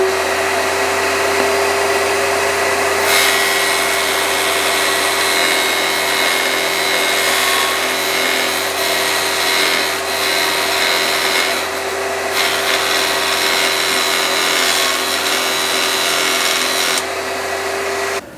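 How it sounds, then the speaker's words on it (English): A carbide-tipped circular saw blade cuts into wood while a tenon is shaped for a wheel hoe handle, producing a loud, steady whine that holds for the whole stretch with brief shifts in tone as the blade is pulled back. "I'm going to turn the saw blade on, put this back in place, drop it down into position there, and slowly pull it back like this"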